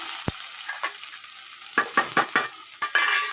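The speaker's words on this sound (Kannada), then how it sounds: "ಎಣ್ಣೆ ಕಾದಿದೆ ಈಗ ಇದಕ್ಕೆ ಈರುಳ್ಳಿ ಹಾಕ್ಕೊಂಡಿದ್ದೀನಿ" Onions dropped into hot oil in a frying pan, a sharp tap followed by several bursts of crackling sizzle as they are stirred, loud and close with a hiss underneath.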